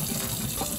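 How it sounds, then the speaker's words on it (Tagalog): Tap water runs steadily over a fish being rinsed in a sink, a brief close gushing splash with no talk over it. "Pasahan natin siya. Final hugas."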